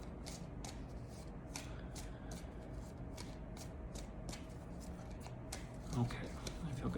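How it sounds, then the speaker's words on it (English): Angel oracle cards are shuffled by hand in a rapid series of crisp, quiet riffling snaps, close up. A soft rustle and handling noise follow near the end. "The angels, a nice shuffle."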